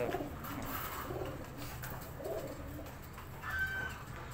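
Pigeons cooing close by, soft low murmuring coos repeated in a loose rhythm over faint background noise.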